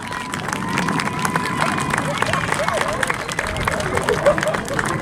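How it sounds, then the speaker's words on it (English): At a seaside airshow in Southport, a large outdoor crowd applauds the Red Arrows synchro pair, scattered claps spread under a constant wash of crowd babble and a commentator's voice over the public address. "Southport, give the synchro pair a massive round of applause."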